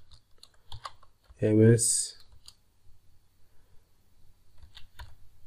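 Typing on a computer keyboard, with light, irregular key clicks close by, paused by one brief spoken word.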